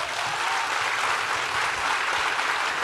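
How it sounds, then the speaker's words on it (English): An audience at a panel event with women in the armed forces breaks into sustained, even applause, a thick wash of many hands clapping loudly without pause. "I think we can clap louder for that."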